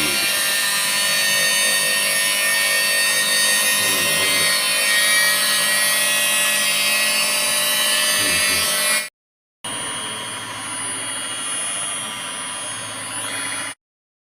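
A steady, loud electric mixer whirs nonstop as eggs and sugar are beaten into cake batter for a quick tharippola cake, pausing briefly before running again with a slightly different pitch.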